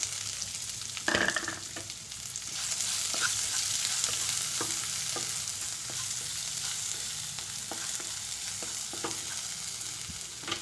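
Chopped onion hitting hot oil with browning urad dal, a steady frying sizzle with occasional stirring clicks and scrapes of a spoon in the pan, continuous and close for the whole stretch.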